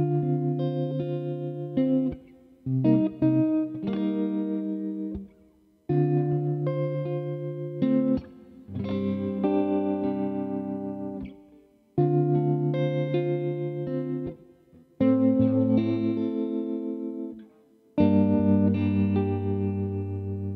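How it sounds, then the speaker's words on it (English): Cozart Tele-style electric guitar on the neck pickup with a mellow jazz tone, amp simulation, reverb and tremolo, plays chord phrases in six or seven separate bursts with short gaps, each ringing out clearly with no talking. "Let's kind of see what kind of jazz guitar type sounds we could get."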